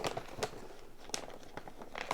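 Faint crinkling of a plastic zipper storage bag holding pinto beans and an oxygen absorber, with a few soft clicks and rustles as the zipper is pressed shut.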